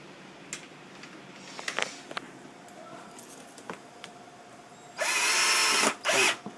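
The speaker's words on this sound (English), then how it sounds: "Don't have too much torque on your screwdriver, or you can do it by hand." Power screwdriver driving screws into an airbrush workstation during assembly: faint clicks and handling taps, then two short, loud whirring bursts near the end.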